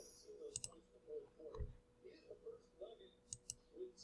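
Mouse clicks while working in TinkerCAD, turning a shape into a hole: a few sharp, quiet clicks spaced irregularly, close by, with a voice talking faintly underneath.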